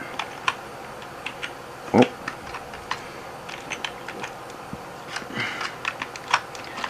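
Close computer keyboard typing as an nmap command is entered, with scattered individual keystrokes and short bursts, light and crisp against a quiet room.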